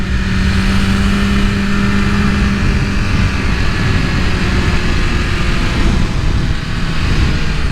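A red 2023 BMW S1000RR sport motorcycle drones steadily while being ridden, its engine a loud, continuous roar mixed with heavy wind rush and no talking.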